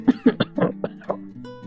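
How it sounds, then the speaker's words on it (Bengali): A short run of throaty coughs, several quick bursts in a row, close and fairly loud, then a brief rough trailing sound. "স্যার দেখি কাশি হয়ে গেছে"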